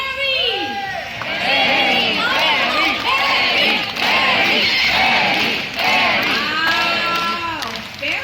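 Audience at a bird show at Singapore's Jurong Bird Park cheering and shouting, with children's voices prominent, a sustained, loud crowd roar rising and falling over several seconds.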